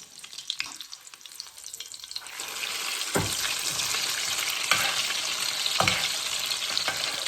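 Shrimp and beef egg foo young fries in a pan over medium-low heat, giving a steady, close sizzle that rises and holds after a quiet start, with a few soft thumps of the pan or spatula.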